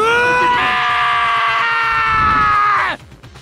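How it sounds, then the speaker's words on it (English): A dramatic character scream from the video game Danganronpa, a single loud sustained high wail of about two and a half seconds that cuts off abruptly, heard alone. "that's the best scream in this game"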